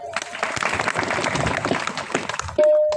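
A devotional kirtan audience claps in a dense burst of applause for about two and a half seconds. A steady electronic tone then cuts in and holds to the end.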